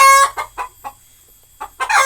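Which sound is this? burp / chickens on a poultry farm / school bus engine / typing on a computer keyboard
chickens on a poultry farm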